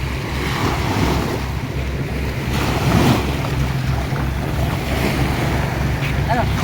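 Sea waves wash steadily along a beach in Agusan del Norte, a loud continuous surf roar mixed with wind buffeting the microphone, with no clear voices.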